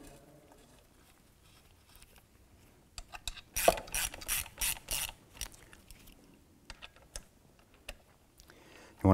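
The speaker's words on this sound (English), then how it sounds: "that's why I'm doing them with a little hand ratchet first to make sure everything goes in nice and easy." A small hand ratchet tightens the steering column pivot bolts on a 1993-1997 Ford Ranger, giving a close series of quick clicking bursts in the middle, with quieter handling noises before and after.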